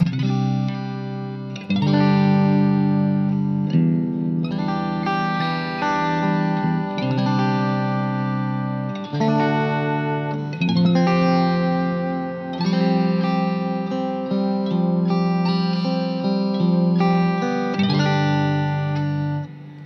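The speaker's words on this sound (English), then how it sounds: "It's now our reverb." Electric guitar chords ring out with a wide, washy reverb tail, loud and sustained, strummed in a repeating pattern with no voices.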